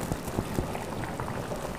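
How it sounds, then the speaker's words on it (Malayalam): Hot Kottayam fish curry, just taken off the heat, bubbles and crackles softly as a little coconut oil goes over the top; a close, continuous simmering patter. "ഒരു ശകലം വെളിച്ചെണ്ണ മുകളിൽ ഞാൻ ഒഴിക്കും."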